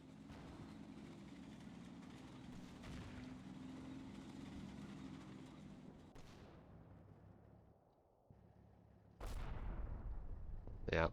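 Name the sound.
artillery shells falling and exploding in Combat Mission video game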